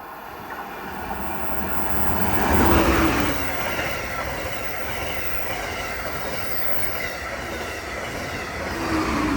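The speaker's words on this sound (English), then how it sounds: "here's a train that looks like a Northeast Regional" An Amtrak Northeast Regional passenger train rushes past nearby in Odenton, Maryland, its roar swelling to a peak then settling into a steady rumble of wheels on track.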